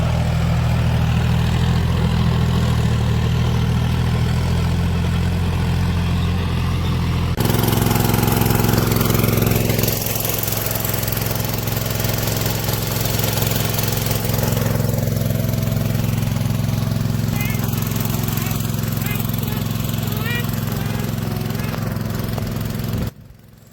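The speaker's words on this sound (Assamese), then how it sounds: "ট্ৰেক্টৰে হাল বাই ষ্টাৰ্ট কৰি দিলে" Tractor engine running loud and close while ploughing a field, a constant heavy droning hum that shifts pitch around seven and ten seconds as it works, before cutting off abruptly at the end.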